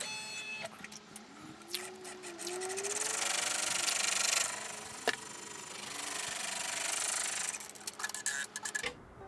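An embroidery machine sews a placement stitch for an in-the-hoop sensory marble maze. It gives a quiet, steady mechanical whir with rapid needle ticking and a few sharper clicks, and the noise grows louder midway.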